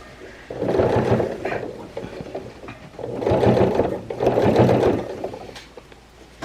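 A sewing machine runs stitches along a jean skirt in three sustained bursts with short pauses between, its motor whirring steadily and fairly close.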